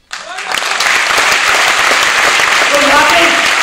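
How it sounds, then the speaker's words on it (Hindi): Loud, dense audience applause at a motivational speaking event, starting abruptly and holding steady throughout, with faint voices and cheering mixed into the clapping. "ये तालियां, ये अप्लॉज"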